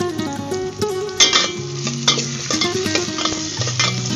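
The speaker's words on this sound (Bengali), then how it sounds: "পেঁয়াজ কুচিগুলো তেলের মধ্যে দিয়ে দিতে হবে" Chopped onions fry in a little oil in a wok, making a continuous crackling sizzle with occasional utensil scrapes. Steady musical tones play underneath.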